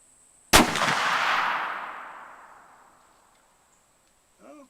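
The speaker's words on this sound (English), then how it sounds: "actually ready to fire the gun." An Alonzo Selden muzzleloading rifle fires a single loud, sharp report outdoors, followed by a long rolling echo that fades over a couple of seconds, then a brief faint sound near the end.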